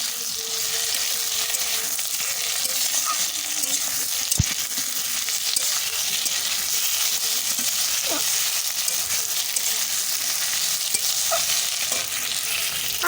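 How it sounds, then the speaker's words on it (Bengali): Ginger and garlic frying in a pan with potato and tomato, a steady bright sizzle throughout with occasional soft stirring scrapes and light clinks, close and without talk. "আদা রসুনটা ভালো করে ভেজে নেব"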